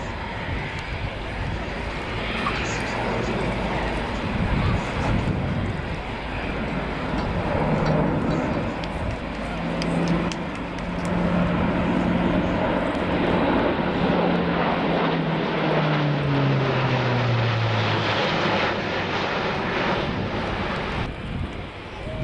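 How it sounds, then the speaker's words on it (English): An Airbus A400 military transport aircraft performs a steeply banked flying display, its turboprop engines droning loud and steady with a sliding propeller tone, buffeted by wind noise on the microphone. "The aircraft will bank over to approximately 120 degrees."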